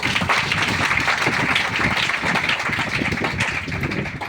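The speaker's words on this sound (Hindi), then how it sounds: "थोड़ा ताली दिए सभी" Audience at a branch meeting applauding on request, a steady dense wash of many hands clapping that fills the whole stretch at even loudness, with no clear voices over it.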